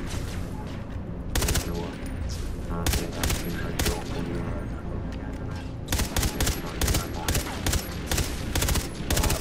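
Gunfire in the video game Far Cry 3 Blood Dragon comes as repeated loud bursts of rapid shots, several separate volleys broken by short pauses over a background of game noise, with no voices.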